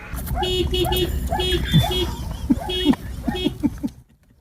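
Small dog honking a car horn while barking at its owner at a restaurant stop; a repeated short toot-like horn pattern mixed with barks, fairly loud and close, with a voice talking over it.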